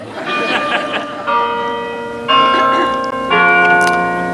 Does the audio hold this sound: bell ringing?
yes